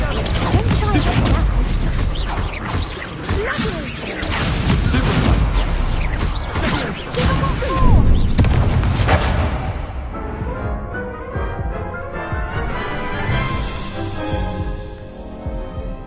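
Spells are cast and blasted in the Hogwarts Legacy video game, with loud, dense bursts and crashes layered over a constant game soundscape. Voices call out between the blasts, which fade toward the end.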